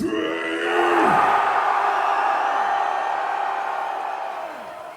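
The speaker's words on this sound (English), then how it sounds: "On the count of 3, let's hear you scream." A large concert crowd in Adelaide screams and roars at a show, making a loud, sustained wall of cheering that swells after a shouted cue and then slowly fades.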